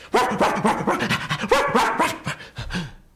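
A dog barks and pants in a quick, excited series of short yips during a storytelling performance, likely a human voice imitating the dog, close and loud before trailing off.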